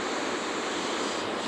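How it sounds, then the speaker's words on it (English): Ocean surf washes steadily onto the shore beside a beach campground in the late afternoon, a loud, continuous rushing wash with no break and no voices. "I am obviously, that is the ocean, so I'm on the ocean."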